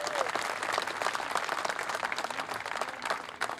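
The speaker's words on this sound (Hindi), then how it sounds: "मजा नहीं आया, और जोरदार ताली होनी चाहिए इनके लिए।" Crowd at a Karni Sena village rally in Bond clapping vigorously, a sustained, dense burst of applause with individual claps audible up close and little talk underneath.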